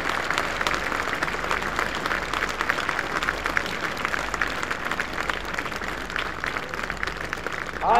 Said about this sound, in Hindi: तालियों की गड़गड़ाहट से हम अपने प्रधानमंत्री जी का सिंधिया स्कूल के परिसर में स्वागत करते हैं